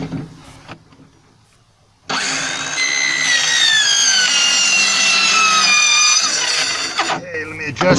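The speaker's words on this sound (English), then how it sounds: "let me grab my my small trim saw to take that off" A small power trim saw runs up after a quiet pause and cuts through wood with a loud, sustained whine. The pitch shifts slightly during the cut before the blade spins down, with faint talk before the cut.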